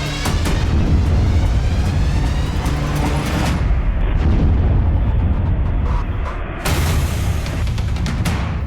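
A large bomb blast goes off at night at the Nowgam police station in Jammu and Kashmir. A loud, continuous, deep roaring rumble fills the scene, and a second heavy burst follows near the end, with no talking.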